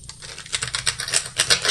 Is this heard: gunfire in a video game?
no